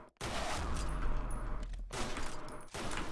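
Rapid bursts of Kamikaze rifle gunfire in the WarRock shooter game come in two clustered volleys separated by short gaps, fairly faint and without talk.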